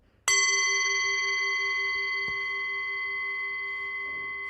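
A recorded gong for meditation strikes once and rings out with a long, steady metallic hum, followed by a faint second tap under the sustained tone in an otherwise quiet room.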